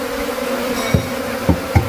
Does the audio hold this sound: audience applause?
no